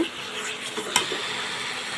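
An ingredient is stirred into prawn curry with taro and sponge gourd in a frying pan: soft close scraping over a faint sizzle, with one sharp clink of the spoon against the pan.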